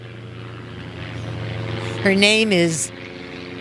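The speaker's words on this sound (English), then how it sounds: "there's an airplane overhead" An airplane flies overhead as a steady low drone throughout, under a person talking close by.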